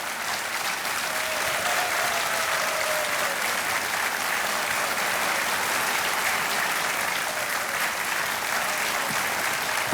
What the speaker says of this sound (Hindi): तालियां जोरदार से बजनी चाहिए